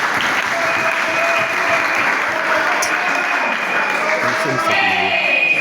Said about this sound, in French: Je vous demande donc d'applaudir les chefs de l'État.